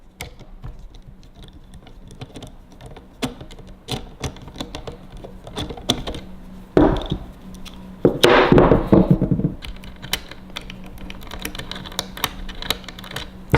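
Screws being backed out of a Ruger 10/22 barrel assembly make close, dry metallic clicks and ticks, with a denser burst of scraping and rattling near the end. No voices.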